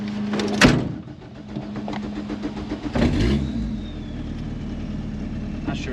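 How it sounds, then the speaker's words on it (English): Volkswagen Caddy turbo diesel engine recovered from a scrapyard, clattering at idle then revving in two sharp bursts, close and loud, with a door-like thump and mechanical knocks between. "I sure do love a turbo diesel."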